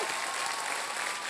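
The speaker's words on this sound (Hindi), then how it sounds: "करोड़ों की मालिक 1 रुपए के लिए ताली" Brief burst of steady studio-audience clapping on the Wheel of Fortune game show hosted by Akshay Kumar, a dense even wash of hands applauding with no voices over it.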